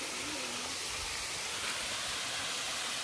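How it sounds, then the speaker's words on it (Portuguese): Small waterfall spilling into a reservoir, a steady broadband rush of falling water that runs loud and unbroken from start to finish. "Essa daqui é a cachoeira."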